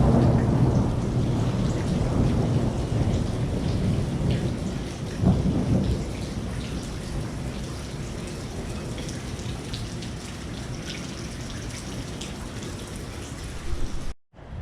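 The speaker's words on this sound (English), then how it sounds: "it's still raining unfortunately" Heavy rain pours steadily around a house porch with rolling thunder rumbling underneath, a dense continuous roar with a louder low swell midway, cutting off sharply at the end.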